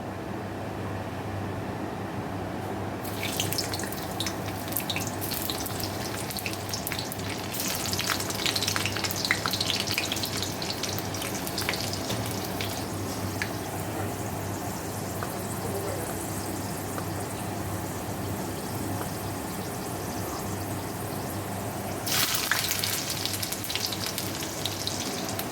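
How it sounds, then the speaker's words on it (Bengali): Garlic dropped into hot oil for a tempering crackles and sizzles steadily on a gas stove, with a brief louder burst of frying near the start and again near the end. "আর রসুন ফোড়ন দেবো।"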